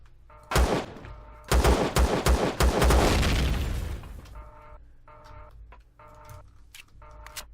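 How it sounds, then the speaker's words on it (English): Rapid bursts of gunfire from the space-survival game Empyrion, loud and close, with several quick volleys in the first half before trailing into quieter reverberant rattles and clicks. "don't want to miss shooting that one and hit all the oxygen and blow it up"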